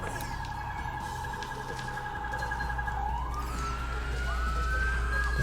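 Wailing police sirens outside, rising and falling over a steady low traffic rumble; continuous and moderately distant, with no talking.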